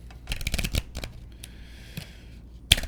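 Tarot cards are shuffled by hand in quick, crisp riffling bursts with short pauses between them, close and clear, no talking.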